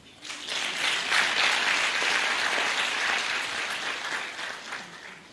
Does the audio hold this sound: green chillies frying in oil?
no